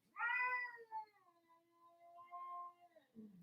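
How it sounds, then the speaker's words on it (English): A cat outside a room gives one long, drawn-out meow that wavers and trails off, followed by a short faint chirp, quiet but clear against a silent background. "Can you guys hear that? I guess the cat wants in the room."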